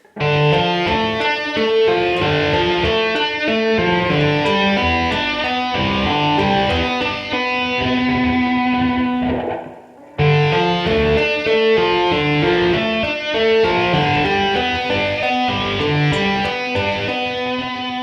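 An electric guitar riff played loud and clean, with a held bent note and a brief break before the phrase resumes.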